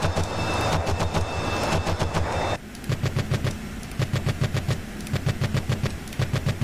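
Rapid bursts of aircraft cannon fire from an A-6E Intruder in the DCS World flight simulator, a steady rhythmic string of loud, sharp reports under continuous jet engine noise, with a brief denser stretch before settling into repeated gun bursts.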